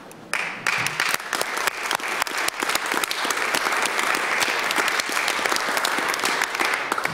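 Loud, dense applause from a legislature chamber audience greeting a visiting grade 7 class, starting abruptly with sharp claps and settling into a sustained, even roar.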